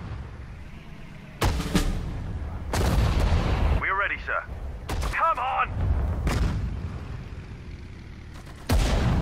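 Battlefield gunfire in the World War II strategy game Sudden Strike 4, with sharp loud shots and heavy booms in bursts, some whistling projectile sweeps, and voices speaking between the blasts.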